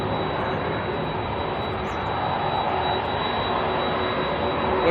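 A jet airliner, such as an Airbus A320neo, departs Auckland Airport in wet weather, its broad steady engine roar loud and continuous throughout with no voices.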